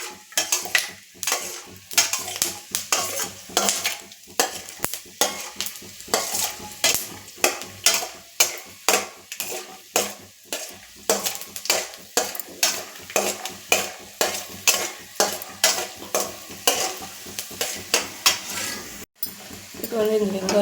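A spoon scrapes and stirs steadily in a pan while food sizzles and fries underneath, rhythmic metallic strokes repeating close up over continuous hiss, for tempering a temple-style pulihora.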